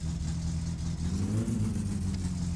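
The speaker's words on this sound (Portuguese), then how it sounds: "Aí já começa a fazer um barulho estranho no motor." A car engine in the My Summer Car video game, after a distributor adjustment and with nitro, revving up mid-clip with a rising growl over a steady, slightly rough running drone, fairly close and uninterrupted by talk.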